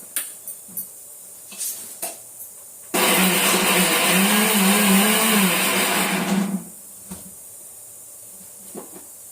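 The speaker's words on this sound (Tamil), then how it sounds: "2 தக்காளி இதை போட்டு நம்ம மிக்சியில் அரைச்சிட்டு வந்துடணும்." An electric mixer grinder pulses two tomatoes for a kuzhambu, whirring loudly and close for about three and a half seconds amid soft kitchen clatter and knocks before and after, with no talk.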